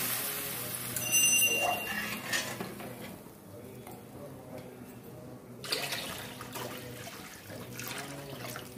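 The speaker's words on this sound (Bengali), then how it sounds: "এবার আমি ঝোল দিয়ে দেবো। পরিমাণ মতো জল দিলাম।" Water is poured into a simmering rui fish curry with spices, giving a running, splashing pour with some stirring and light clinks of the pot, close and moderately loud, with no talk.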